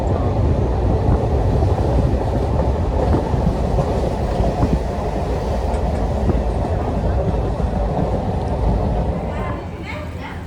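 An Indian passenger train bound for Guwahati makes a steady, loud rumble of wheels and carriage noise throughout, faint clicks over the rails, easing slightly at the end.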